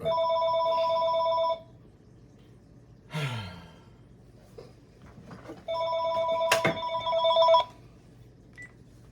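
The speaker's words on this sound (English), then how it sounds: "It was a real phone call." A telephone rings in two long electronic trill bursts separated by a pause, with a sigh and a sharp breath between them and under the second ring.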